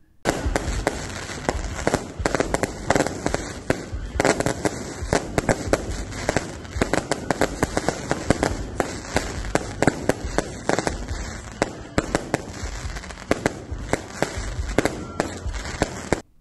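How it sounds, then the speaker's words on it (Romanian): Fireworks crackle and bang continuously for a long stretch at an autumn festival in Belinț, Romania, a dense, steady barrage of pops and bursts with no talking. "Evenimentul s-a încheiat cu tradiționalul foc de artificii."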